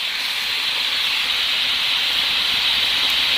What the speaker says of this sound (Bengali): ঝোল ফুটে গেছে এর মধ্যে আমি ভেজে রাখা মাছগুলো দিয়ে দিচ্ছি